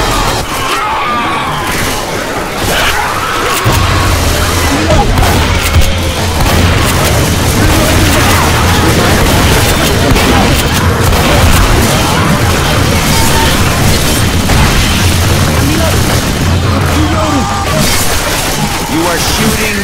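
Gunfire and booming blasts in the video game Left 4 Dead 2 form a loud, continuous barrage throughout, with a player's voice talking over the shooting.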